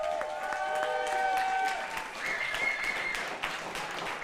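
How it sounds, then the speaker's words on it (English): Audience at a women's esports final applauds player Clara, a steady wash of clapping and crowd noise from a sizable room, moderately loud and sustained, with a voice speaking over it. "can we get a round of applause for Clara,"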